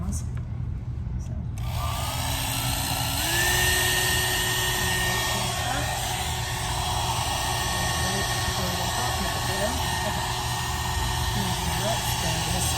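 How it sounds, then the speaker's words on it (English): Small travel blow dryer switching on after a brief quiet moment and then running as a loud, steady whooshing hum with a faint whine, used during acrylic paint pouring. "So this is my travel blow dryer."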